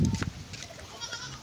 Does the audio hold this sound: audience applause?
no